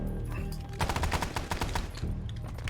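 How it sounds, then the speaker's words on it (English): Rapid automatic gunfire bursts out in a modded war video game, a dense volley of close shots under a low rumble, starting after a brief quieter lead-in. "I'll try and lay down some suppressing fire while we hold these trench line"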